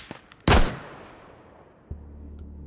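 A single sharp, loud sniper rifle shot in modded Take & Hold, a close crack followed by a long decaying echo, then a softer mechanical clunk of the action.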